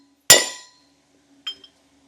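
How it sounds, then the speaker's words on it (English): A single sharp clink as a DeeMaxx disc brake kit cap is tapped into place, bright metallic ring decaying quickly, followed by a softer second tap and a tiny tick, close and alone. "I'll just give it a few taps."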